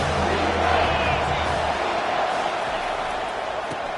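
A large football stadium crowd at a Clemson game roars in a broad, sustained wash of cheering that stays loud and steady throughout, with a slight easing toward the end.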